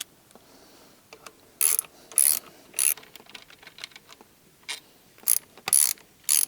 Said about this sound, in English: Now we are going to loosen the brake caliper using a 12mm socket.